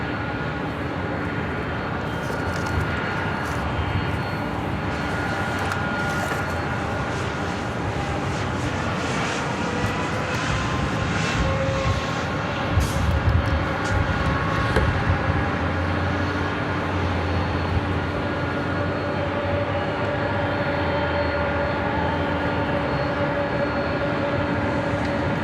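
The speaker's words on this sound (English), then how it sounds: "That is Delta Airlines Flight 670 heading to JFK in the 767-300ER." A Delta Airlines Boeing 767-300ER jet at LAX gives a steady, loud engine roar that holds for the whole stretch and swells slightly near the middle, with no talking.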